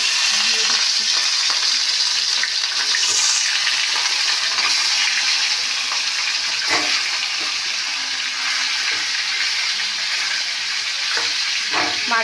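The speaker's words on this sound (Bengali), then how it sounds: "মাছগুলো তাহলে ভাজা হোক" Fish frying in very hot oil, a loud continuous sizzle and spatter with scattered pops and crackles, heard close and steady throughout, no voices.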